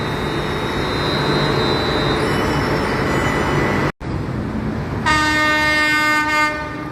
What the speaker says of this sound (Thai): อันสตอม C131 เครื่องยนต์ MTU แล้วก็อันสตอม C144 ครับ เครื่องยนต์ MTU ครับ กับขบวนรถธรรมดาขบวนที่277นะครับ